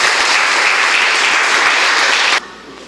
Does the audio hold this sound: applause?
yes